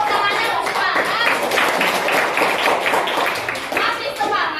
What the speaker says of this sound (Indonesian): Tepuk tangannya harus semangat.